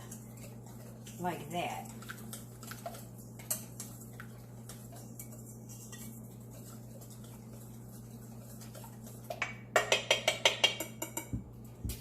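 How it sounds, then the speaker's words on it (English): Lemon juice whisked in a bowl for a lemon Bundt cake, heard as a quick burst of light, rapid metallic clicks near the end, after a stretch of talking over a steady low hum. "So you just whisk it up"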